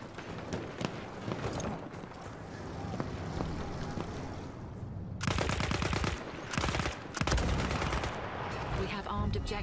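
Battlefield 1 video game battle with gunfire throughout, building from scattered distant shots into loud, dense bursts of rapid automatic fire in the second half, with a voice faintly present.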